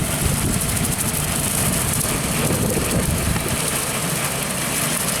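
A Woods 15 ft brush hog mower pulled through golf course grass gives a steady, loud engine drone with a constant rumble and a rough, vibrating texture, continuous throughout with no talking.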